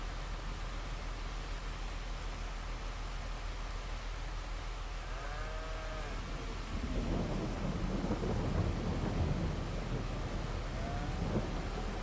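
Steady rain and rolling thunder from the Farming Simulator 22 farming game, a constant wash of downpour with a low thunder rumble swelling in the second half, no voices.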